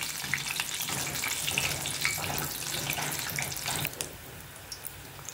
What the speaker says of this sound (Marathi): अशा प्रकारे आपल्याला भरपूर असे कोफ्ते तळून घ्यायचे।